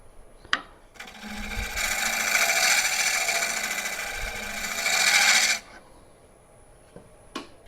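An inside bowl scraper shaves a live edge burl wood bowl, a sustained rasping scrape of about four seconds between short taps and knocks, close and fairly loud.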